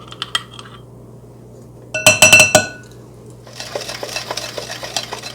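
A utensil clinks and scrapes against a bowl while fresh-squeezed orange juice and orange zest are mixed into batter, a short burst of clinking followed by softer, steady stirring.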